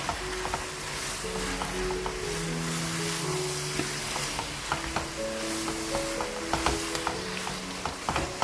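Keema with big green chilies stirred in a frying pan, a spatula scraping and tapping through the mince over a constant sizzle, close and steady, with a faint tonal hum underneath and no speech.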